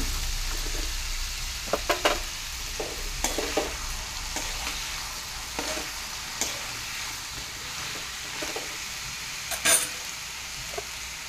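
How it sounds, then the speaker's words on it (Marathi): Tomatoes and carrots sauté in a pan for a Marathi bhogi vegetable dish, giving a steady soft sizzle with occasional stirring scrapes and light clinks of a spoon against the pan, close and without talk. "तर 5 मिनिटं आपल्याला असंच परतून घ्यायचे, नंतर मसाले घालणार आहोत।"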